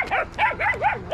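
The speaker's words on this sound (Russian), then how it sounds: "Сколько их, смотрите, щенята." Several puppies yip and bark in quick, rising bursts, about four high-pitched barks in a steady rhythm, close by and loud, directed at a German shepherd.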